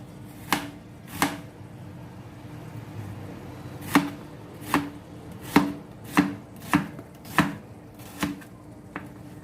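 Knife chopping an onion on a cutting board for homemade shawarma, about a dozen sharp, distinct chops in an irregular rhythm, close and clear with no talk.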